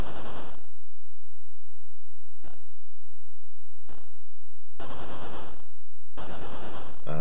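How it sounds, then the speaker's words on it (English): Chiptune explosion effect from the Amstrad CPC game Robozone, harsh noisy bursts repeating in a stuttering pattern with low buzzing tones between them, loud and drawn out. "A nice explosion effect at the end there."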